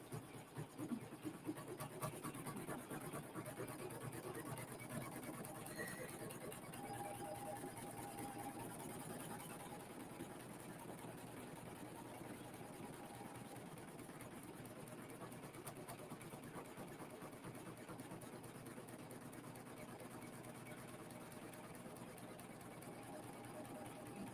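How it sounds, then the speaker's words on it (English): Sewing machine stitching in a steady, continuous mechanical hum and whir that runs unbroken for the full stretch, fairly faint and even in level with no pauses. "while she is stitching along"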